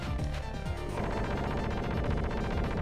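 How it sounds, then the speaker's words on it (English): Gunfire in the Sega Genesis beat-'em-up Streets of Rage 2, with rapid repeated shots and crashing impacts over game music, loud and continuous. "to avoid the gunfire, Brit, stay up where he is."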